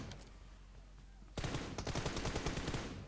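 Automatic gunfire in the mobile shooter PUBG Mobile: after a quiet stretch, a sudden loud burst of rapid shots cracks out in a fast rattling string, then tails off.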